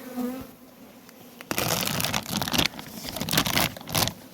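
Carniolan honey bees buzz around a hive, quiet at first, then a dense, louder swarm hum swells in with a few scraping sounds.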